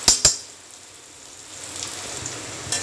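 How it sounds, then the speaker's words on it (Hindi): Onions frying in oil in a pan for poha give a steady, soft sizzle, with two sharp clatters at the start and a few faint knocks later, no voices. "हम प्याज डाल के इसको भून लेते हैं"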